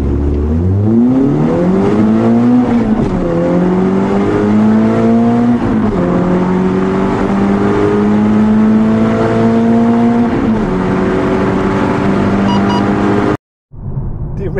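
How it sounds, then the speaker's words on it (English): A decatted 2003 Renault Clio 172 Cup with a KTEC Stealth exhaust, ITG panel filter and R-Sport ECU accelerates hard, its engine note climbing loud and close through several gear changes before cutting off abruptly. "my 2003 Clio 172 Cup. This was running a KTEC Stealth exhaust, an ITG panel filter"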